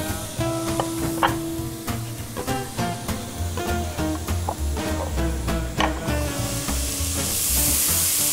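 Bacon strips fry loudly in a pan, a dense crackling sizzle punctuated by sharp pops and occasional scrapes, close and continuous without any talking.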